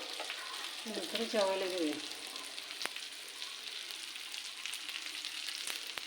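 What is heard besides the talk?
fish frying in a pan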